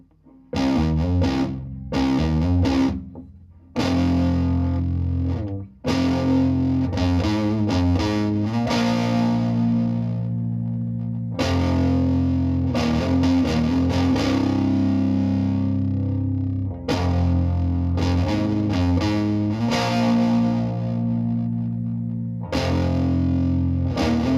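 Heavily fuzzed electric guitar plays loud, thick distorted chords and riffs, with brief gaps between phrases.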